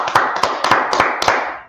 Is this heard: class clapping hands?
yes